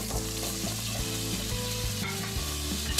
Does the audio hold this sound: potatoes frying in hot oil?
yes